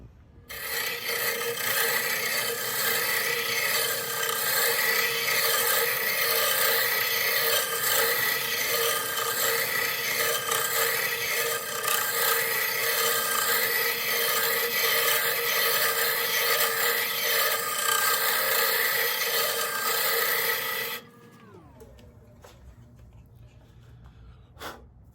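A wooden baby rattle hollowed slowly on a wood lathe gives a steady, loud, continuous scraping rasp for about twenty seconds, then cuts off abruptly, leaving only a faint low hum.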